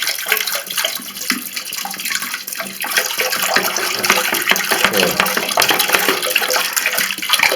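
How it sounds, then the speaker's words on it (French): White vinegar splashing and trickling steadily into a toilet cistern, a continuous bright watery pour that stays loud and close throughout. "vous prenez du vinaigre et vous en reversez 1 litre intérieur"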